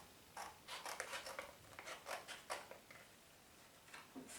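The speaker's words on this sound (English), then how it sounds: "And scissors." Scissors cutting paper to make handmade cards, a faint close series of quick snips and rustles in an uneven rhythm, with no voices.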